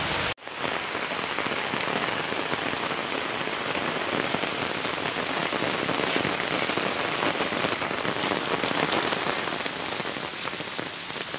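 Heavy rain drums densely and close on surfaces at Khopoli, a loud, constant patter after a brief cut at the very start.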